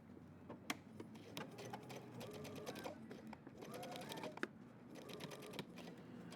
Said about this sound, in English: I'm gonna baste stitch